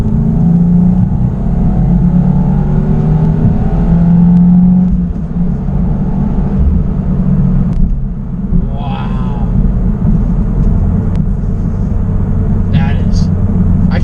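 A 2026 Subaru WRX tS turbo engine drones and builds under acceleration in third gear, with a low rumble and whirring; a voice talks over it briefly.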